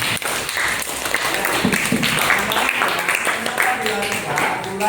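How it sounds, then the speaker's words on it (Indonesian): Applause in a classroom, a steady patter of many hands clapping together, fairly close and continuous, with voices mixed in throughout. "kita berikan aplaus."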